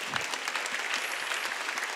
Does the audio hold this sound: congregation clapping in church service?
yes